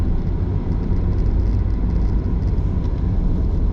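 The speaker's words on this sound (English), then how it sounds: "Okay, so here comes a car, so you can see what I mean." A car approaches on the narrow Ka Ho Village road in Macau, heard as a steady, close, low rumbling drone with no talk.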